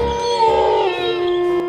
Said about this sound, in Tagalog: Yan na naman yung alulong ng aso.